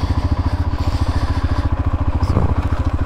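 A small tractor's engine chugs along up close with a steady, rapid thumping clunk, loud and rhythmic throughout, with a brief clatter near the end.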